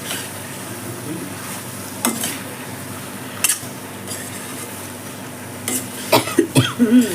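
Fish head curry being stirred through masala in a pan, a soft steady sizzle with scraping strokes of the spoon and a few sharper clinks near the end.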